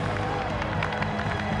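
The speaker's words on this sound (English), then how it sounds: "the crowds gather for an emotional farewell" Crowd noise at a final British Airways Concorde homecoming in 2003: a dense, steady wash of many voices with scattered claps and cheers, fairly close and continuous throughout.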